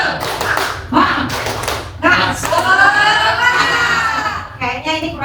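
A class of children stands and performs the tepuk semangat clapping chant, with bursts of rhythmic hand claps mixed with voices chanting and shouting together, loud and close in a classroom.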